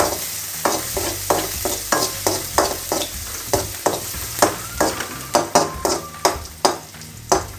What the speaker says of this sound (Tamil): கடுகு போட்டியதும் நம்ம கொஞ்சம் வெங்காயம் கட் பண்ணி வச்சுருக்கோம்ல, அந்த வெங்காயத்தை போடணும்